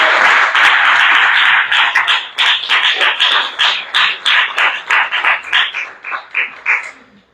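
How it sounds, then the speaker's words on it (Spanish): A church congregation claps during a service, starting as a loud sustained burst and breaking into rhythmic, evenly spaced claps in unison before stopping. "De verdad, dele palmas al Señor en esta hora."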